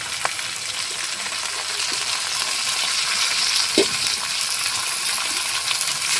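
Eggplant frying in a pan with beans, potato and carrot gives a steady, even sizzle throughout, broken by one brief metallic clink partway through. No one speaks.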